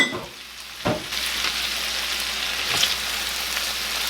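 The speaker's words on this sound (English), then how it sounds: "So, I'm going to add in all of my garlic. Give this a little toss around the pan." Garlic and sausage frying in a pan, a continuous close sizzle with a couple of brief scrapes as the pan contents are tossed around.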